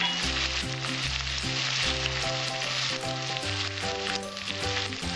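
Cumin, chili and coriander pastes sizzle steadily in a hot pan for a Bengali prawn and raw jackfruit curry, a continuous frying hiss running beneath loud background music.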